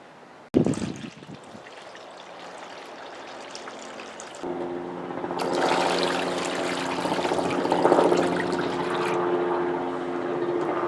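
Liquid pouring into a soaking tray for parts from a 1961 Falcon: a sharp clunk, then a steady splashing stream that grows fuller and louder as the tray fills, close by and continuous.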